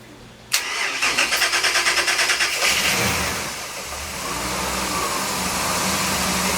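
An inboard motor on a 2005 Sea Ray 340 Sundancer cranks with a rapid rhythmic whir, catches, and settles into a steady rumbling idle, loud and close with no talk.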